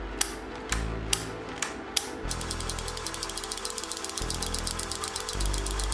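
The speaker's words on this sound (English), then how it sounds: "this label maker might be good for making rivets. I set it to the period, and then I just punch out a bunch of periods" Embossing label maker set to the period character, punched over and over in quick rhythmic mechanical clicks and ratcheting clunks, close and clear with no talking.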